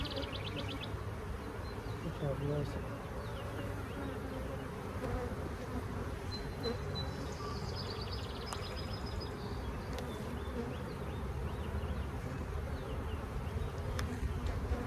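Honeybees in a very full hive make a dense, continuous buzz, close and steady throughout, with individual bees droning past now and then.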